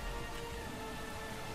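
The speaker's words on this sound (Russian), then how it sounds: "Acid Rain from the Sky." Acid rain falling in the Roblox game Horrific Housing, a dense steady hiss of rain pouring continuously over a brief stretch, fairly quiet with a low rumble underneath.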